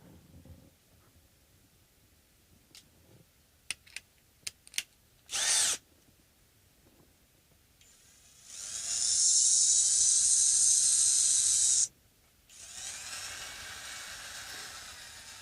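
Power tool winding off guitar strings on a Fender Telecaster, heard as a few clicks and a short burst, then a long, loud high whine followed by a second, softer run.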